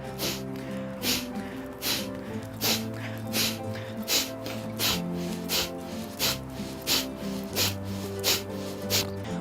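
Forceful breath-of-fire exhalations snap out through the nose in a quick, steady rhythm, about a dozen and a half sharp puffs, close and clear over a soft, sustained musical drone.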